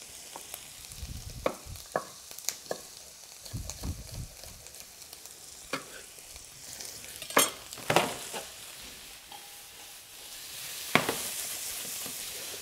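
Asparagus pieces fry in a pan with a steady sizzle, broken by scattered clinks and scrapes as they are stirred and moved around, with no talking.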